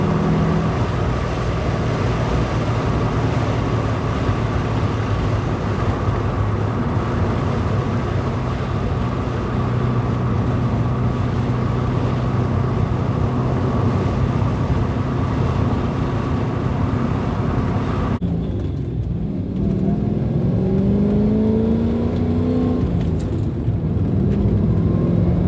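An LS V8-powered 944 roars along at speed over a bumpy road, its engine and road rumble loud and continuous, the tone shifting abruptly near the end as it slows or changes gear.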